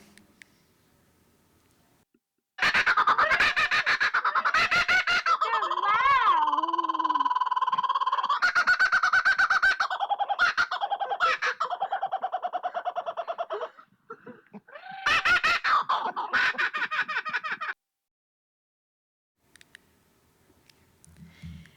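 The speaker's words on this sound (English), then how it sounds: "here's a video of the kookaburra laughing at my mom" A kookaburra gives its loud laughing call in several long, rising and cackling bursts, close and strong, broken by short pauses and ending in quiet.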